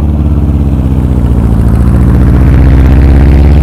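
Engine of a 1967 beach buggy pulling away from the start flag at a London to Brighton classic car run, a loud, steady mid-pitched drone that grows slightly as it accelerates, with no talk.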